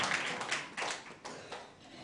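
A church congregation claps hands together in a brief burst of several uneven claps, fairly close and moderately loud, with no clear talking.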